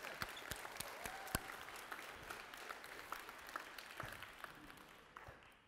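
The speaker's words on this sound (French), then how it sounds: "on peut applaudir" A church congregation breaks into applause that is fairly quiet and distant, a continuous patter with a few sharper close claps standing out, thinning toward the end.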